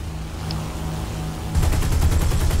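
Rapid bursts of nose-mounted aircraft guns firing in War Thunder, a loud continuous rattle that kicks in partway through over steady engine drone.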